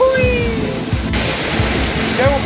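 Waterfall plunging through a rocky canyon at Cascada Los Vientos near San Alfonso, its icy water producing a steady, close roar of rushing noise that fills the whole clip with faint tonal sounds drifting over it.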